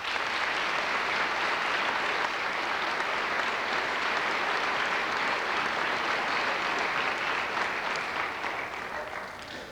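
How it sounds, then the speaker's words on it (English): A 1994 parish school graduation audience gives a round of applause, dense sustained clapping from a crowded hall that stays strong and then tapers slightly toward the end. "Let's give them all a round of applause"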